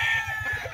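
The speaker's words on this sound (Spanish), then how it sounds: "Mira qué belleza de gallo." A jabao gamecock at a rooster yard gives short, close, throaty clucks that pulse in a steady rhythm with no voices.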